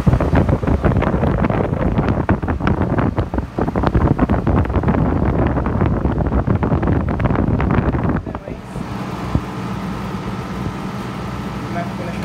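Two Carrier outdoor air conditioner condenser units running outside, a loud steady roar of fans and compressors blended with wind buffeting on the microphone, then dropping to a lower, calmer hum as one unit shuts off.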